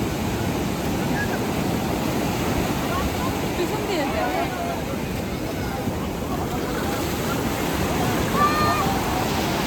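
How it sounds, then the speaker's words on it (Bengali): Big, rough sea waves at Puri beach in bad weather roar as a loud, continuous surf wash with wind buffeting the microphone and faint voices mixed in. "শুধুমাত্র ওয়েদার খারাপের জন্য এই ধরনের ভয়ঙ্কর ঢেউ।"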